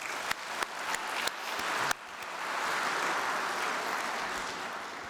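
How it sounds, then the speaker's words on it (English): Quiet applause from a breakfast audience at an economic development event: a few sharp separate claps at first, then a soft, steady spread of clapping that fills the room at a modest, distant level. "Can we give them a round of applause?"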